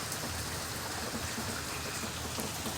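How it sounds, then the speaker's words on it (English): Steady light rain falling after a storm in East Texas, a soft continuous patter with scattered drops, fairly close and even throughout, with no voices. "It's still raining a little bit, but not bad."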